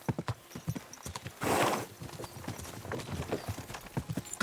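Rapid clip-clop of galloping horse hooves in the video game Kingdom Come: Deliverance II, close and rhythmic, with a brief burst of noise like a whinny partway through.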